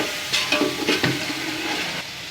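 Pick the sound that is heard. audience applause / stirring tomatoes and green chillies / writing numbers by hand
stirring tomatoes and green chillies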